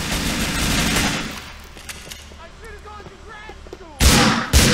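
Assault rifle gunfire in the GTA 4 video game: a dense loud burst at the start fades into quieter ambience with faint voices, then two sharp loud shots near the end.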